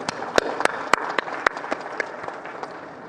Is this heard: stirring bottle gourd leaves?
no